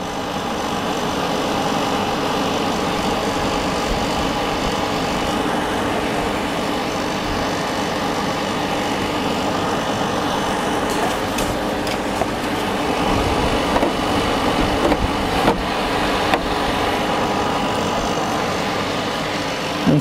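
A modified dual-hose portable air conditioner with a baffled condenser runs with a loud, steady whooshing drone and hum that holds nearly constant throughout, heard close and alone.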